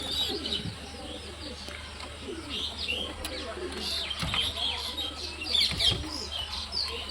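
Pigeons, a high-flying old-bloodline collection, coo and chirp close by with occasional wing flaps, their soft repeated calls running steadily under background noise and some distant voices.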